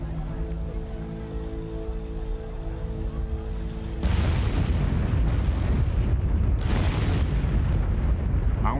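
Vesuvius erupts with a sudden loud, deep rumbling burst over a low drone, followed by sustained roaring and crackling like falling ash and rock.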